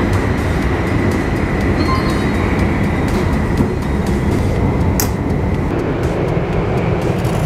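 Steady, loud rumble and rolling hiss inside a moving Japanese train heading north from Tokyo toward snowy Yuzawa, an unbroken wash of track and carriage noise with no voices.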